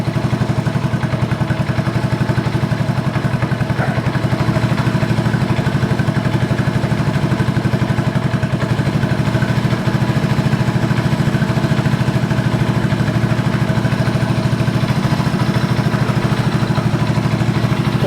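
A Honda TRX 125 ATV engine idles close by, a steady, rapid mechanical putter with light clatter, continuous and unchanging for the full stretch without talk.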